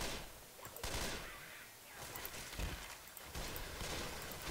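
Pistol fire in the Left 4 Dead 2 zombie shooter, a quick run of sharp, fairly faint shots at an uneven rhythm over a busy game-noise background.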